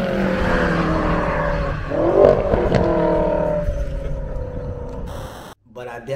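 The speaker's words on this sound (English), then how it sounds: "I like the downshifts on the dual clutch and the way it makes the vehicle sound." A car with a dual-clutch transmission revs hard and downshifts, the engine note climbing and dropping in quick steps with a brief tire-squeal-like edge. It is loud and close and ends abruptly in a short cut.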